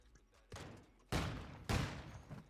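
Call of Duty sniper rifle gunfire during a competitive match: three booming shots spaced roughly half a second apart, each a sharp crack with a lingering tail, the later two louder and closer.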